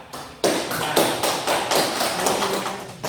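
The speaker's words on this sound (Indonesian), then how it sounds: "kita berikan aplaus kepada kelompok 3" Classroom applause from students for a student group, a dense burst of many hands clapping that starts abruptly and continues steadily, fairly loud and close, with no speech over it.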